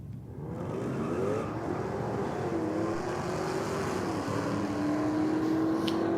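A Jeep Trackhawk drag racing a quick VF Commodore down a drag strip, a continuous engine roar rising in pitch as the cars accelerate, heard from a distance at moderate volume.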